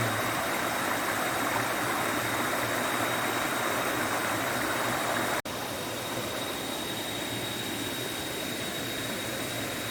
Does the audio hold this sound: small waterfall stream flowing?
yes